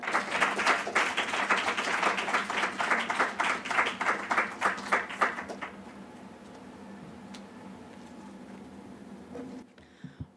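At a Robert Lowell memorial poetry reading, an audience claps in a lively burst that fades away after about five seconds, leaving a quiet room with faint rustling.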